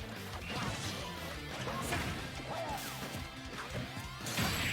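Game combat in Super Smash Bros with an up smash attack landing: a steady stream of hits, crashes and whooshes from the match, with a sharper impact burst near the end and no commentary over it.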